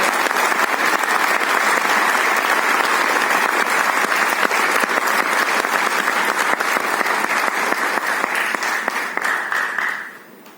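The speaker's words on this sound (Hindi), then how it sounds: "तालियों की गड़गड़ाहट से हम अपने चैंपियंस का स्वागत करें।" A large audience at an Olympic stamp release ceremony gives loud, sustained applause to welcome champions, dense clapping holding steady for about ten seconds before dropping off abruptly at the end.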